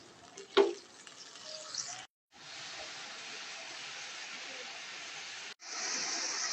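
Stirring a pan of food after water has been added, a steady bubbling sizzle with a scrape near the start and short breaks in between.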